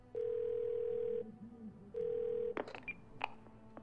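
Telephone in a video game gives two long steady dial tones, then a quick burst of dialing beeps and clicks. The sound is quiet and close, with no talking.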